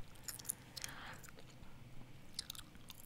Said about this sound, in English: I'm grossing myself right now by chewing out loud.